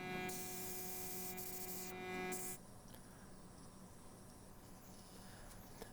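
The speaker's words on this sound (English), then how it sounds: "my method of post-Lichtenberg is sanding from 180 grit up to 600" Steady rasping strokes of sandpaper, 180 up to 600 grit, on a wood-turned Lichtenberg platter, with a faint electrical hum, stopping partway, followed by quieter background noise.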